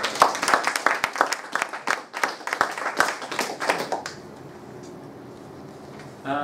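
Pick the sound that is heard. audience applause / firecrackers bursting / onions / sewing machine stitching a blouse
audience applause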